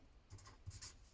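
Pen writing on paper while a cube-roots-of-unity product is worked out in a 10th class maths lesson; a faint, brief scratching of strokes with no voice over it.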